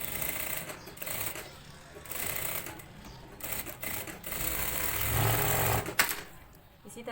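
Sewing machine stitching fabric for a garment neckline, a steady mechanical whirr running in bursts with short pauses, while someone talks over it.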